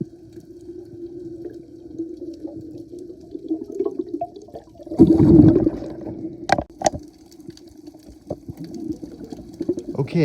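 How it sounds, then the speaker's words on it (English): Underwater near a power plant's giant hot-water outlet pipe off Hawai'i, a low steady rumble of rushing water swells into a loud turbulent burst midway, with a few sharp knocks after. "So hot water comes rushing out through this, and when you swim into it, it blows you backwards like you're in a giant hot tub."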